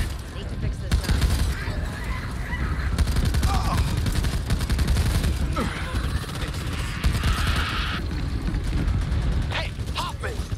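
Gunfire crackles in the Back 4 Blood shooter during versus play, rapid repeated shots and bursts layered into a dense, continuous clatter with game voices calling out over it.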